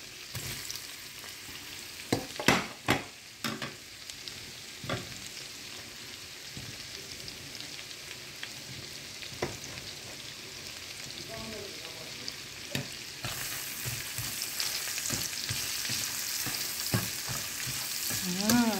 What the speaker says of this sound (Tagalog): lagay na rin natin yung sibuyas